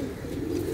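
A pigeon gives a single soft, low coo that is brief and close, with no voices.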